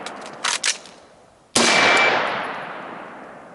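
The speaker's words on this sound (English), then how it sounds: "On target, fire one shot, emergency reload, fire one shot" An AR-15 rifle with a 13.7-inch barrel and ACOG fired on a range: a couple of faint metallic clicks and handling sounds from the reload, then one loud sharp gunshot with a long echoing decay, no talk.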